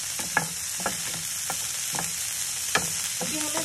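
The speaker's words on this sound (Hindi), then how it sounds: "देखिए बीन्स और अनियन को हम हल्का सा कैरेमलाइज करके सॉटे कर लेंगे इसमें" Chopped beans and onions sautéing in a pan make a continuous hissing sizzle, broken by several light scraping stirs and taps spaced irregularly, with no talking.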